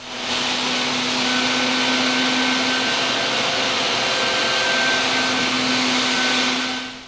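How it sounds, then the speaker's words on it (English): A shop vac runs steadily while sucking corn or soybean seed out of a planter seed hopper, a loud, constant whine with a faint high tone that starts and winds down at the edges, no voices. "Then use a shop vac to remove all seed from the hopper."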